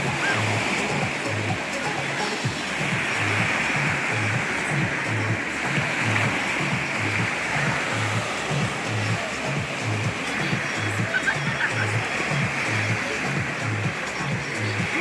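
Sea waves roll onto the shore at Łeba on the Baltic where someone swims in 16-degree water, a steady loud wash of surf with a pulsing low throb throughout.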